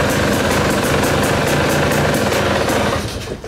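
A KTM 300 motorcycle engine mounted in its frame runs with a steady, rapid buzzing two-stroke rattle and a regular pulsing throb, close and loud, then starts to drop away near the end.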